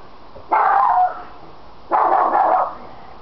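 A dog barks outdoors in the evening, two loud, sustained barking bursts separated by a short pause, with a third starting at the end.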